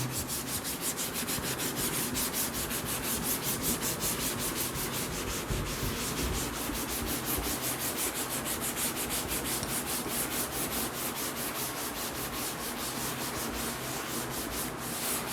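A duster or cloth rubbed steadily across a classroom board to erase notes in a physics lesson, giving a continuous close scraping swish with rapid repeated strokes, no voices.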